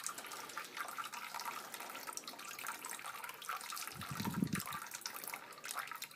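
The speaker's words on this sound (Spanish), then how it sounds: "pues aquí ya tenemos el bol casi lleno" Water from an ionizer purifier pours steadily into a bowl, a soft continuous trickling stream with a brief low gurgle midway, faint and close.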